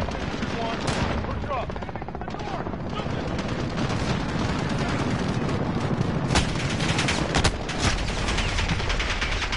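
Machine gun fire in the Call of Duty: Modern Warfare (2019) campaign, sustained loud automatic bursts amid heavy battle noise and explosions, with a voice speaking over the din.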